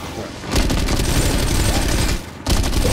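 Shotgun gunfire in a video game: loud, dense bursts of blasts filling the first stretch, a brief drop, then another heavy burst, with a voice partly buried under it.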